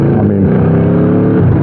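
A 2015 Aprilia RSV4 superbike fitted with an Austin Racing exhaust runs its engine, producing a deep, loud, close rumble that holds steady through a brief burst.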